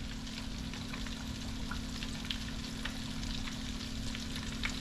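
A second batch of chicken drumsticks deep-frying in hot oil at around 175 degrees, giving a continuous even bubbling sizzle with small crackling pops, close and steady with no voices.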